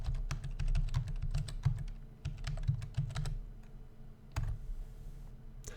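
Computer keyboard keys pressed in quick, irregular bursts while spreadsheet data is typed in and Tab is hit to move between cells, close and clear with short pauses near the end.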